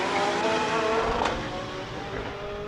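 A Lotus Exige race car charges up a hillclimb course at a mountain speed event. Its engine roars loudly and close, peaking as it passes by, then fading into a rougher, distant drone.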